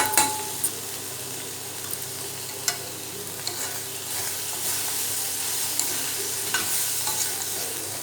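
Meal maker soy chunks fry in a pan while being stirred, a constant sizzling hiss broken by sharp scrapes and clinks of the spoon against the pan at an irregular rhythm, close and without talk.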